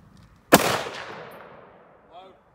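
A single loud gunshot at an outdoor shooting session, sharp and close, with a long ringing decay, then a faint metallic ping a moment later.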